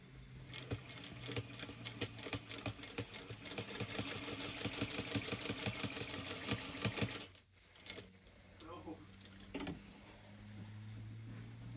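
A sewing machine runs in a fast, steady stitching rattle for about seven seconds while basting a wallet seam, then stops, followed by quieter handling and a low background hum.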